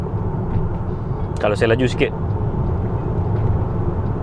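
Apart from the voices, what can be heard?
road noise inside Hyundai Santa Fe on poorly paved road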